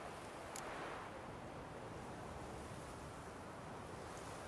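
Wind blows steadily in Witcher 3 Wild Hunt, a continuous soft broadband rush like distant surf, faint and unbroken with no voices.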